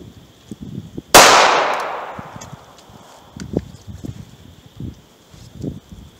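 A single sharp gunshot from a .380 ACP pistol firing a Remington 95 grain full metal jacket round into wood, a loud crack with a long fading tail, followed by faint scattered clicks and rustles.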